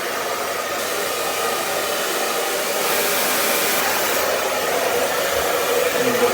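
A hair dryer blows hot air while styling hair, a loud steady whooshing roar that shifts slightly in tone as it moves, with no talking.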